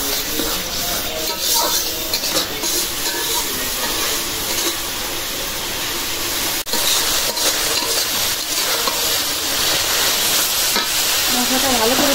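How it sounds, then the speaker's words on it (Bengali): Ginger-garlic paste and green chillies being sautéed for a prawn curry sizzle and hiss steadily in a pan, with repeated stirring scrapes on top of the constant frying noise. "মশলাটা ভালো করে কষাই নিলাম।"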